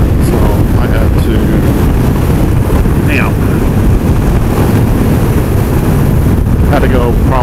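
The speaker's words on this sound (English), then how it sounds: "The winds made it very interesting for sure." Heavy wind buffeting a microphone on a motorcycle riding a gravel road on Ruta 40, a loud, constant roar with low rumble, and engine whine faintly through it, with brief speech-like bits.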